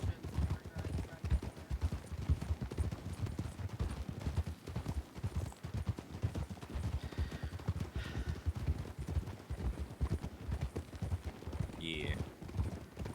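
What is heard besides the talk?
horse hooves clip-clopping in a video game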